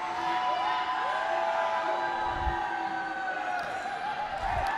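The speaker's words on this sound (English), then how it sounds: "What an amazing crowd we have here at OCBC Arena." Large arena crowd at a pencak silat championship at OCBC Arena, a steady roar of cheering and whooping that holds throughout with a few sharp thumps underneath.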